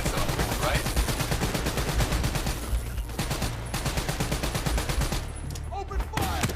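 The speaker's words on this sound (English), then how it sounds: "Open fire!" Rapid automatic gunfire in the Call of Duty Black Ops 3 video game, a loud, continuous stream of shots that barely lets up, with a voice shouting over the battle.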